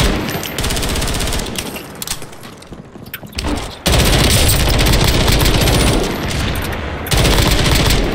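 Call of Duty Warzone gameplay with loud, dense bursts of automatic gunfire rattling close by. The shooting comes in long sustained volleys broken by short pauses.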